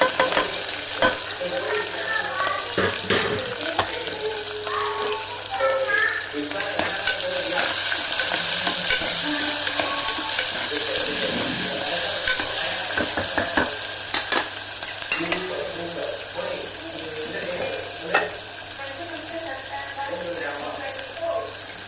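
Green chillies, dried red chillies, curry leaves and onions fry briskly in oil in a home kitchen pan, a dense continuous crackle and hiss with occasional spoon scrapes, heard close and loud throughout.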